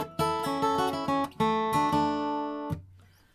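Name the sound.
acoustic guitar playing first melody phrase of a song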